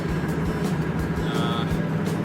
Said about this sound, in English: I'm driving at night